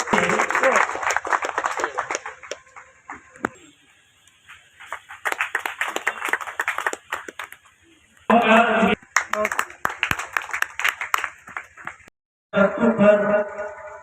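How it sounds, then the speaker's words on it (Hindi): A crowd at the opening of a Sawani fair by the Kamla river in Jaynagar claps in short, loud bursts of welcome, between stretches of amplified talk over a PA. "तालियों से स्वागत"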